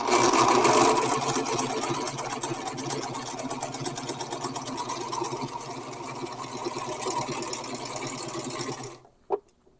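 A sewing machine runs a straight stitch along a bread bag, a steady, fast mechanical whir with rapid needle ticking held for about nine seconds before stopping, followed by a brief clunk.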